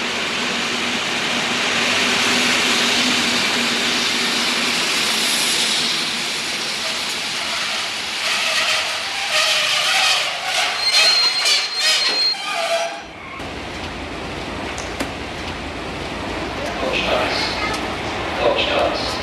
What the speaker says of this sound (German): Konstanz, bitte aussteigen. Der Zug endet hier.